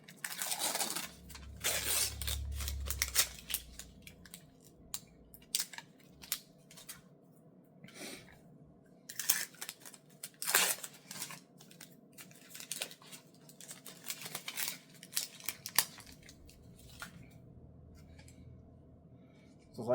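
Tape is peeled off the stand of a HyperX Quadcast 2 microphone in a quiet room, with irregular close crinkling, ripping and crackling bursts scattered throughout and a soft low thump early on.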